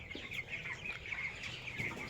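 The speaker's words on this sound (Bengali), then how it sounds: "এ দেখেন আমার ব্রয়লার মুরগিগুলো" A flock of broiler chickens, about fifteen days old, clucks and peeps softly indoors in a continuous murmur, faint and fairly distant, with no talking.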